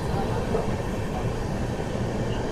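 Coromandel Express passing through Nidadavolu Junction without stopping, a soft continuous rolling rumble of the train from inside the coach, even and unbroken.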